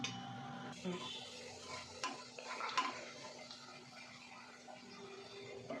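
Mustard seeds and cumin dropped into hot oil in a pan give off a soft, low sizzle with scattered light pops and metallic clicks, faint and close, with no one talking.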